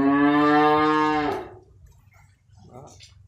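A head of cattle at a livestock market in Phu Kiet, Cho Gao, Tien Giang gives one loud, close moo lasting over a second, followed by quieter background noise and a little talk.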